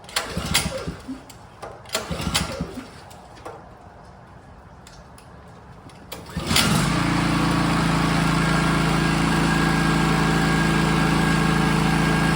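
A Champion dual fuel generator running on propane: after some handling knocks it cranks and catches, then settles into a loud steady engine drone that continues to the end.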